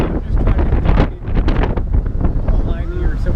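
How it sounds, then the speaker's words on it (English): Strong wind buffets a microphone outdoors in Santa Rosa, California, a loud continuous rumbling roar with gusty surges throughout. "Pardon the wind, guys. It is super windy."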